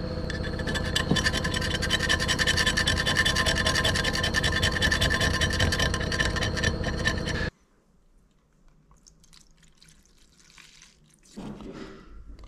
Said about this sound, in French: je vais racler tous les bords là